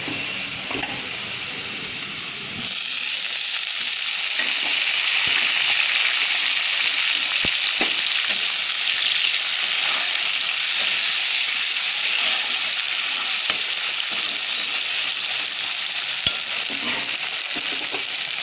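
Tomato and green chilli hit a pan of browned onions and fry, the sizzle jumping louder after a brief quieter start and then holding a steady, close, rain-like crackle throughout.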